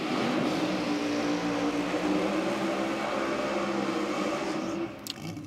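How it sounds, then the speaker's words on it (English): A car does a burnout at Sydney Dragway during an NSW drag racing championship evening session. A loud, steady roar of engine and spinning tyres fills the clip, then drops away just before the end. "Nice burn out of Paul."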